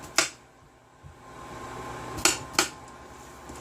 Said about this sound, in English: Go ahead and give it a good stir.